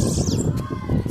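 Short chirping call from a bananaquit (sibite) kept as a cage bird, a quick descending high note over a steady background hum, fairly close and with no talking.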